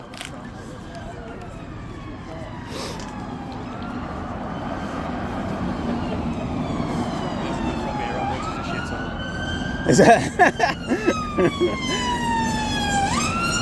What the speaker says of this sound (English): That was an ambulance.